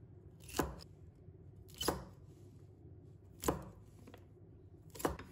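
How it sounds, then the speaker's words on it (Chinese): Knife chopping a small bunch of green beans into short pieces on a cutting board: four crisp, evenly spaced chops about every second and a half, close and clear, with no talk. "再准备1小把的豆角，把它切成小段，段切成5厘米左右就可以了。"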